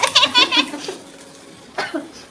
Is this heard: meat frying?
no